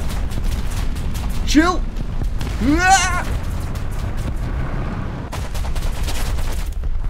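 Rapid anti-aircraft gunfire in War Thunder, a steady stream of close, sharp shots running through most of the stretch while someone talks excitedly and briefly whoops.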